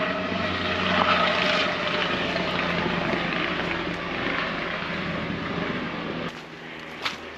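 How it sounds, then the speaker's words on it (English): A helicopter passes low and close over a forest hut in Tararua Forest Park, its rotor and engine a loud, steady broadband roar that holds for several seconds before easing off. "There's a helicopter flying over"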